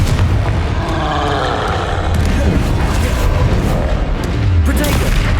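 Confringo fire-blast spell from the Hogwarts Legacy game booming loudly amid a busy battle mix of rumbling blasts and crackling effects, with a voice speaking over it.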